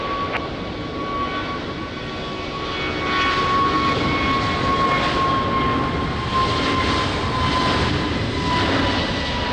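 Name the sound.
Airbus A321 jet aircraft rolling on runway in rain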